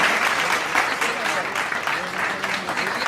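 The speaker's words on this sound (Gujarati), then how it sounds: "આપણે જોરદાર તાળીઓથી બંને બહેનોને વધાવી લઈએ" An audience at a community mass wedding ceremony claps steadily, with a dense, sustained patter of many hands close by and a voice speaking faintly underneath.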